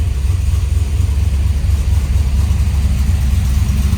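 Nitrous-fed Chevy S10 drag truck engine idling at around 1100 rpm on race fuel, a steady deep lumpy rumble held close and loud without a break.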